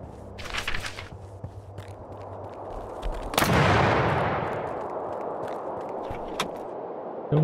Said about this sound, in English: maybe I should actually shoot them